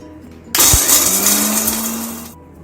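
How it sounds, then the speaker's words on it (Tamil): A kitchen mixer grinder jar powders cashews for yellow pumpkin kheer. One loud, harsh whirring burst starts abruptly, runs for nearly two seconds, then cuts off. "இப்போது இந்த முந்திரியை நம்ம மிக்சி ஜாரில் போட்டு பவுடர் பண்ணிக்கலாம்."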